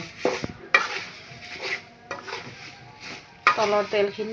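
Leaves being stirred and turned in a hot pan for homemade hair oil: repeated scraping strokes of a utensil come in uneven bursts over a soft sizzle, fairly close.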